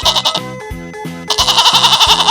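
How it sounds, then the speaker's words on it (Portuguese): A goat gives short, wavering bleats over loud, pulsing background music in a children's animal-sounds segment, the calls close and prominent. "Bode,"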